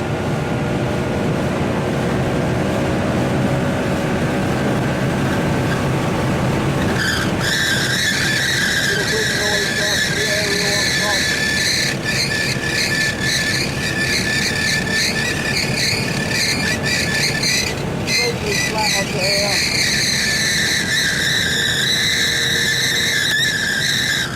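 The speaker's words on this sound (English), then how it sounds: "We're accelerating all the way out through there and up on Göttingen Ho straight." An Audi R8 at speed on the Nürburgring, its engine droning loud and constant from inside the car, with rising tonal whine and intermittent tyre or wind noise throughout.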